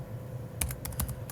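An ID number is typed on a computer keyboard, a quick burst of about six close, crisp key clicks in an uneven rhythm over a faint steady hum.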